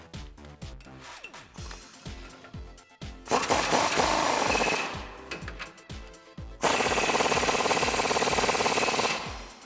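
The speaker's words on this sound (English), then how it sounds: "Now we're gonna tighten down those new nuts on our U-bolts here." A power impact tool drives 22 mm U-bolt nuts on a Ford F150 suspension lift in two loud, sustained rattling bursts, preceded by scattered clanks and rapid mechanical ticking.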